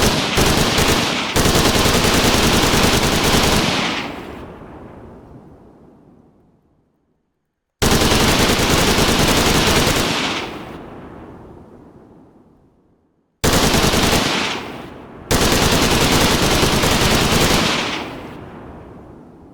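Machine gun fire in the video game Redwave 2, long loud sustained bursts that roll off into echoing tails, four bursts in all with silent gaps between, no talk.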